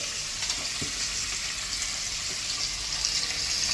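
Chicken and tofu fry in a pot on a small cooker, a steady close hiss and sizzle with a few faint clinks, no voices.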